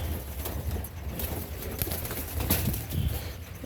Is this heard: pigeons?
yes